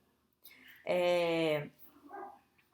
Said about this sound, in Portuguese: Olha meu cachorro, gente, latindo.